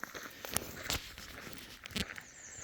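A few quiet footsteps crunch on an outdoor walking path, irregularly spaced, with soft outdoor ambience in between.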